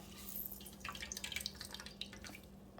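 Water dripping and trickling from grated bottle gourd squeezed in cheesecloth, quick irregular drips and small splashes, soft and close over a faint steady background hum.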